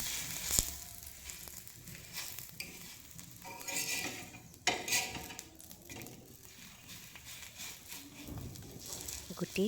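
Paratha pieces fry in a little mustard oil on a tawa with a soft continuous sizzle, broken by scattered scraping and clinking of a spatula, fairly quiet and close.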